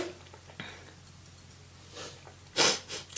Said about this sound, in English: whew, gotta sneeze.